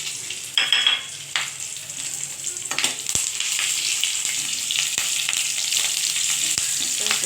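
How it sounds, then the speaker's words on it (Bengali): Green and ripe chillies, bay leaf and black cumin sizzle in hot oil in a pan, a steady close frying hiss with a few sharp clinks and stirring taps, no voices. "যা যা কাঁচা পাকা লঙ্কা তেজপাতা আর কালো জিরেটা আমি একসঙ্গে দিয়ে দিলাম"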